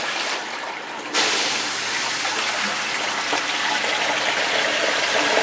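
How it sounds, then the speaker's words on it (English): Water gushes into a flooded basement where two sump pumps are working, a dense splashing rush that jumps louder after a second and then holds steady and close without talk. "It's just pouring in."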